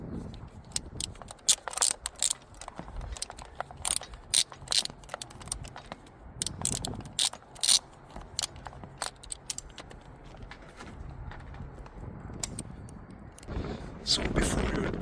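A ratchet works the throttle body bolts on a Ford 3.5L EcoBoost V6 twin-turbo engine, giving bursts of sharp, close metallic clicks in uneven runs with pauses between them.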